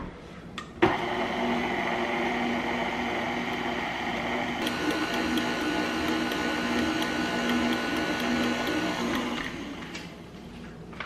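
An electric stand mixer with a whisk attachment beats red velvet cake batter, a steady close motor whir that starts abruptly and runs evenly for about ten seconds before cutting off, with no talking.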